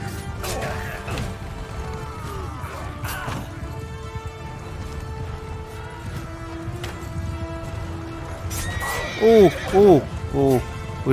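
Horses neigh loudly and repeatedly in Mount & Blade II: Bannerlord, with a burst of shrill whinnies near the end over hoofbeats and clattering battle noise.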